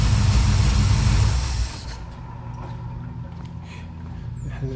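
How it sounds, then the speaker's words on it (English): A 1972 Plymouth Valiant engine with a Holley 600 carburetor, running rich. It roars loudly at first, then drops to a steady, closer idle hum that carries on to the end. "Doesn't run horrible, but golly, it's richer than Donald Trump."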